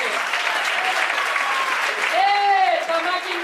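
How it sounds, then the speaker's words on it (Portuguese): Congregation clapping during a Portuguese-language church service, a dense steady wash of applause filling the space, with a voice shouting or singing over it partway through. "As palmas exaltam Jesus."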